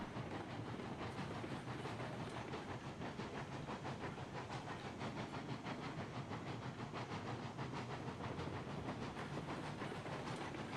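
A steam locomotive hauls a heavy train in the Railroads Online video game, with a constant hiss and a rapid clickety-clack rhythm that run unbroken at a steady level, with no voices.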